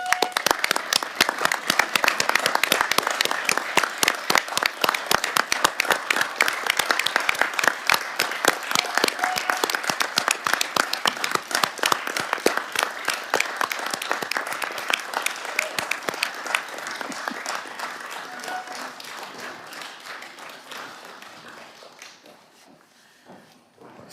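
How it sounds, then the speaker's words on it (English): Council members at the Torbay Council annual meeting give a sustained round of applause, dense steady clapping filling the room before slowly thinning and fading out near the end. "round of applause"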